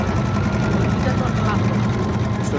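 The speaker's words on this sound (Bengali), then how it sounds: "ছোট ট্রলারটি ছেড়ে দিল" A small trawler boat's engine drones steadily on the Padma river, a close, continuous low chug with broadband water and wind noise around it.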